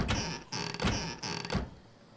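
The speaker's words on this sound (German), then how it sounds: "Oh, ich hau den Boden kaputt." A sledgehammer smashes a wooden floor in the video game 7 Days to Die: three loud, evenly spaced blows, each with a creaking, splintering crunch, close and clear with no talk.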